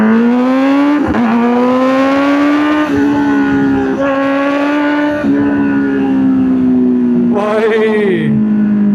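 A Kawasaki Z900 motorcycle pulls hard through several gears, its engine note climbing in pitch, dropping at each shift and climbing again, loud and close throughout.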